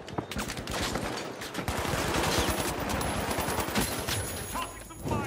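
Gunfire in The Finals video game, rapid bursts and overlapping shots cracking close and loud throughout, with a voice talking over the shooting.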